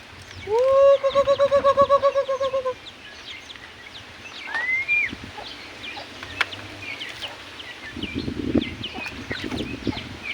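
Turkeys calling outdoors at feeding time: a run of pulsed, rising gobble-like calls, then scattered clucks and chirps over a low background hum.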